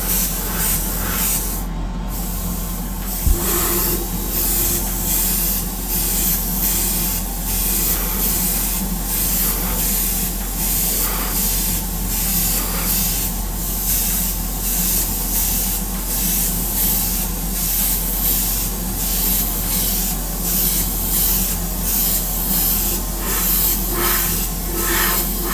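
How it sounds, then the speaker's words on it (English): A smaller airbrush hisses steadily and continuously as it sprays a fine atomized base coat onto Greek-style vases, with faint pulsing in the spray and no talk throughout. "this is atomizing it more than the big airbrush I was using"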